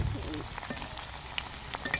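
Thin potato slices fry in hot oil, giving a steady, close crackling sizzle that runs unbroken from start to finish with a few sharper pops and no talking.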